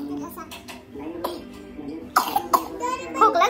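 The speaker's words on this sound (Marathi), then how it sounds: "खोकला झालाय" A young child coughs several times in short harsh bursts, close by, mixed with brief child vocal sounds and babble.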